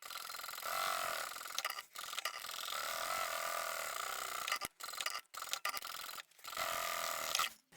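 A sewing machine double-stitches a salvaged plastic vinyl toiletry bag with regular thread, running in a steady mechanical whir with several short pauses and restarts, close and fairly loud with no talk.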